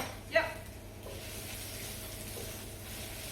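Ginger and garlic hiss and sizzle quietly in a hot pan for a Chinese chicken and mushroom dish, with a sharp clack of the stirring utensil near the start and a soft, steady frying bed after.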